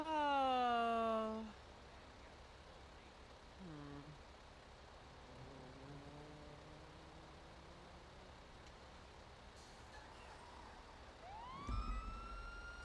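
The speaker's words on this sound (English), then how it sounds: "an emergency vehicle is trying to pass with sirens and or lights enabled" Emergency vehicle sirens wail in NoPixel GTA roleplay, rising and falling at a distance over traffic noise, then a louder siren sweep starts up near the end.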